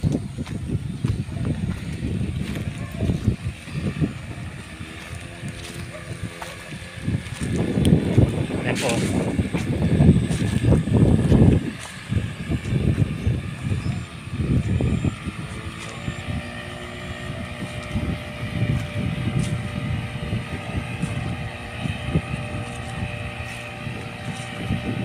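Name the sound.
jet ski engine running on lake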